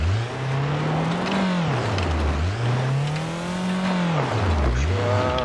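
A Mercedes-Benz W124 in BeamNG.drive revving and squealing its tires, the engine pitch rising and falling in loud sustained sweeps.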